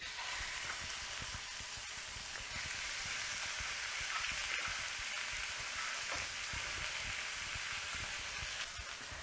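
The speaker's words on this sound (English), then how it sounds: "I have a hot pan, so I'm just going to add just a little bit of oil. And I'm going to brown these meats" Ground pork and beef browning in a hot pan with a little oil, giving a steady, even sizzle and crackle that runs unbroken throughout, moderately loud and close with no talking.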